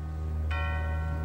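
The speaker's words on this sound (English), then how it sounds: "The bells." A bell in a movie scene strikes once with a bright ringing tone that slowly fades over a steady low hum, and a second strike begins just at the end.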